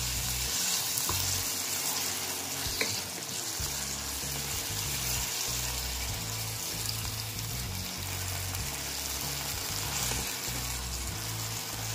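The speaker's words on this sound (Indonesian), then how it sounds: "Masukkan ayamnya. Aduk sampai ayamnya matang" Chicken stir-frying in a pan while it cooks for a mini frozen egg martabak filling, with a steady, dense sizzle throughout and occasional faint clinks of stirring.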